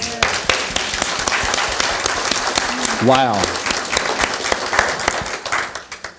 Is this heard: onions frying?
no